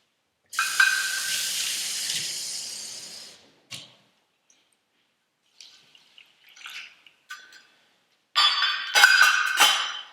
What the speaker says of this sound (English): I'm going to put a cup of water into here.